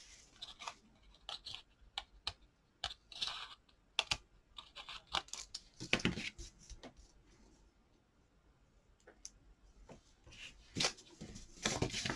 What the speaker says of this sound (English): all I need to do now is cut these bits off here